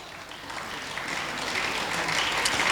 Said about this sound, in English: you should now thank your parents, your friends and teachers with at least 9 thunderous claps